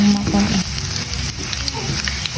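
Ginger and garlic sautéing in hot oil, a bright, steady sizzle with light stirring, close and loud.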